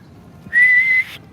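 A single short, clear whistled note, steady in pitch and held for about half a second, close and alone over quiet background.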